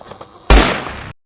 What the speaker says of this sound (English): I just heard a gunshot